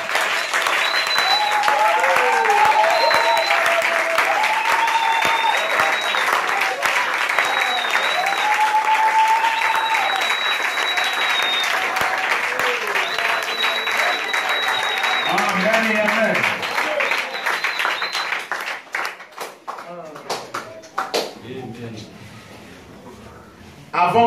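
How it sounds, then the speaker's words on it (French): A church congregation at a Sunday service claps steadily and warmly for a long stretch, with voices and background music under the applause, before the clapping thins into scattered claps and near quiet. "Acclamons un peu le Seigneur ensemble."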